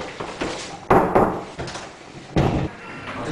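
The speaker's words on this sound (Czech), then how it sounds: "Zaklepte si, vás přijmeme." Knocking on a door: a few dull, heavy knocks in uneven groups, close and fairly loud, with a faint murmur of room noise between them.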